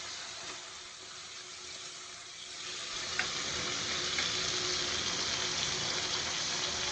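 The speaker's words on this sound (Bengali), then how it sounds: "মশলাটা কষানো হয়ে গেছে, আমি মাছগুলো দিয়ে দেবো।" Fish frying in a spiced masala cooked down with tomato, a dense, even sizzle close by that swells slightly louder partway through, with faint stirring clicks.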